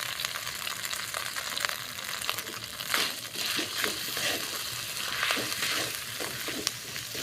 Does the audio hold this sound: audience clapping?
no